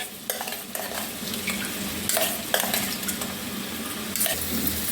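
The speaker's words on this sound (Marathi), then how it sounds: "मसाला मिक्स करून घेऊया कारल्यामध्ये" Masala spice mix being stirred into bitter gourd frying in a pan, a steady close sizzle with repeated scraping strokes of a spoon against the metal and a few light clinks, no voices.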